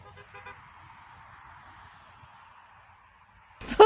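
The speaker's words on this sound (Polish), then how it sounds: "Ktoś trąbił." A quiet stretch of low engine rumble from a 2022 Volkswagen T-Cross, then a sudden short car horn toot near the end, close and loud.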